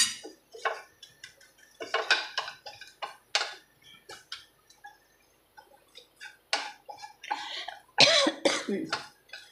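Gram flour (besan) mixture being stirred in a cooking pan for raw mango rasam, with repeated scraping and clinking of a utensil against the pan in short irregular bursts, fairly close, with no talk.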